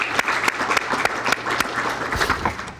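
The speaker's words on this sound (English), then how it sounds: "One more round of applause for these guys." Audience applause at a venture competition event, a steady dense patter of many hands clapping across the whole stretch, fairly loud and close with no talk over it.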